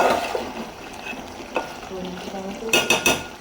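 Ginger, garlic, chili and tomato frying in a pan, a soft steady sizzle with occasional utensil scrapes and a few sharper clinks near the end, close by.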